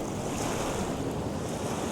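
Sea surf churning and foaming in a steady, loud wash of broadband noise with wind roar, continuous through the whole stretch and with no voices.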